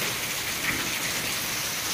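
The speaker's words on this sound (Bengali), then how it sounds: "এই যে বৃষ্টি হচ্ছে।" Morning rain pours down as a constant, loud, close wash of hiss with no pauses and no voices.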